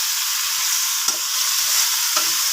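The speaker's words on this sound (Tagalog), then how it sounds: "Yan guys, sunod ko yung ating kalabasa. Yan. Halo-haloin lang natin." Squash (kalabasa) gets stirred in a hot pan, a steady close sizzle of frying with a couple of brief scraping strokes from the spoon.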